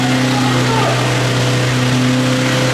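An Ibexx Turbo Pro R side-by-side on small tires runs on a dyno, its engine droning loud and steady with a strong buzzing hum and roar that barely changes.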